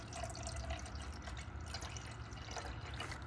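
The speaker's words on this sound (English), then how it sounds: "We're gonna pour that into this glass cup right there." Water poured into a glass cup in a kitchen, a soft continuous trickle and splash heard faintly and close, without speech.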